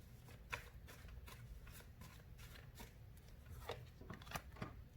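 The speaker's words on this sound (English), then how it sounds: "I'm going to pull 3 cards." Tarot cards are shuffled and pulled from a deck, giving quiet papery flicks and riffling snaps in irregular bursts, close and soft, with no voices.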